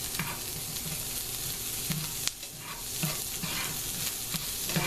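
Vegetables and cheese-stuffed pasta shells in sauce sizzling in a pan, a continuous close crackling fry with occasional stirring scrapes.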